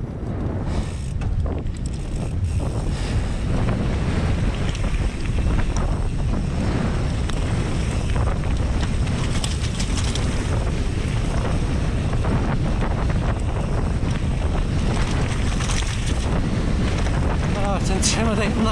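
Strong, gusting wind roars steadily across the microphone at a mass-start mountain bike race on a trail with berms and a jump line, a loud, continuous buffeting rush throughout.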